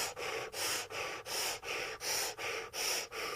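Breath of fire breathing exercise, about nine quick rhythmic forceful breaths through the nose, evenly paced and close, alone with no talking.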